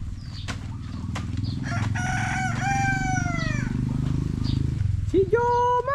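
A rooster crows loudly in bursts over a low, constant rumble of people talking nearby, with a second, shorter crow rising near the end.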